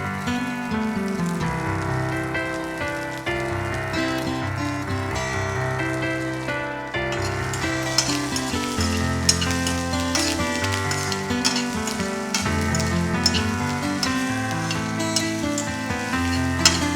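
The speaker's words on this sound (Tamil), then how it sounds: "அடுத்ததாக இதில் ஏற்கனவே நம்ம ஆஞ்சி வச்சிருக்க கருவேப்பிலையை சேர்த்துக்கிறோம்" Curry leaves hit sautéed country tomato and onion in a hot pan, producing a steady, continuous sizzle that runs under background music, with no talking.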